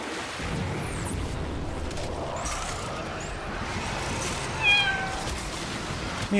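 A cat meows briefly near the middle of the clip over a steady background hum, the call faint and short rather than repeated.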